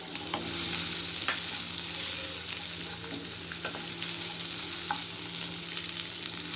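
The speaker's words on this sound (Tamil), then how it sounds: "வெங்காயம் நல்லா பொன்னிறமாக வறுத்துக்கணும்." Onions for vegetable biryani frying in hot oil until golden, giving a dense, continuous sizzle with occasional faint clicks of stirring. No voices.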